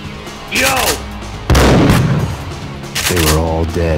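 Loud, close gunfire effects from the game Max Payne 1 laid over an animated action scene, a heavy blast burst in the middle with vocal exclamations before and after it.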